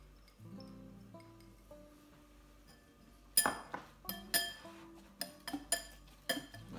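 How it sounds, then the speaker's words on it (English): An egg whisked in a mixing bowl in a home kitchen: a quick cluster of light clinking taps of whisk against bowl, close and fairly quiet, after a stretch of near silence. "One egg. Just give that a little whisk."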